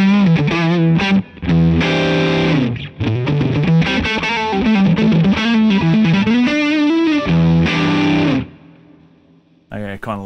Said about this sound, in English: This is the high gain sound for the Fender.